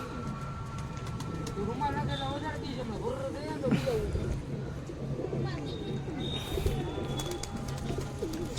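Pigeons coo softly nearby, repeated throaty calls over a steady background hum, with people talking at times.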